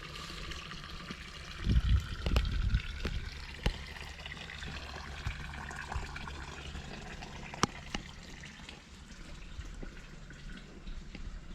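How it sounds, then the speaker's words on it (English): Cold water trickles and splashes softly at a shrine in Switzerland, a faint continuous flow with a brief burst of louder splashing early on. "This is cold water."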